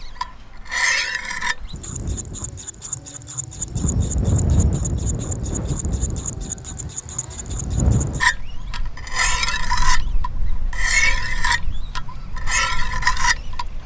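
A knife is worked over the coarsest grit stone of a Wicked Edge WE120 sharpener, giving repeated rasping scrapes in bursts with short pauses between strokes and a longer continuous grind partway through, close and fairly loud.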